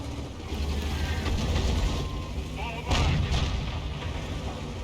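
Tank cannon fire in a tank video game featuring a KV-1S, with a heavy booming shot near the three-second mark over a steady rumble of engine and battle noise, and commentary faintly underneath.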